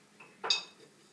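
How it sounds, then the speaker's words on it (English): A single spoon scoop of chocolate powder for chocolate milk: a short scrape and clink against the container, close and quiet, heard alone. "And now we get the chocolate powder and open it. Only 3 scoops."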